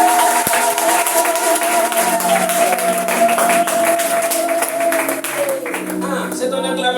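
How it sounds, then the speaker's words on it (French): A church congregation cheers and claps in praise of the Lord, loud and continuous throughout, with a sustained tone over the crowd noise. "C'est ton acclamation comme ça."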